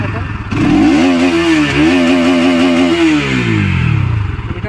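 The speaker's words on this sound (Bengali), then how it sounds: "এটা হচ্ছে ফুল থ্রোটলের NS 200 ফুল থ্রোটল" A Bajaj Pulsar NS 200 BS6 motorcycle is run at full throttle, its loud engine note climbing, wavering through sustained high revs for a few seconds, then dropping back down close by.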